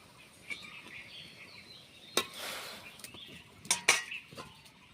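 A lid goes onto a cooking pot of seeded bananas boiling in salted turmeric water: a sharp metallic clatter midway, then a quick double clank of lid against pot shortly after, close by, with no talking.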